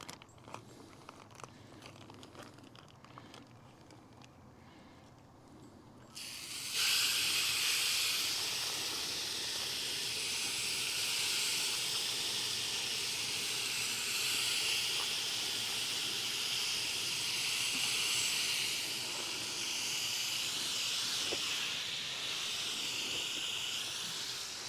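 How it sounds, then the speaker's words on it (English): Food sizzles on hot, oiled grill grates over a small Weber grill, a bright continuous hiss that starts suddenly after quieter crackling and stays steady and close. "we've got the little Weber here nice and hot, and we're gonna use the grill grates"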